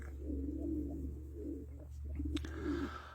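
Tumbler pigeons coo in a series of low, soft, repeated calls close by, over a steady low background hum with no talking.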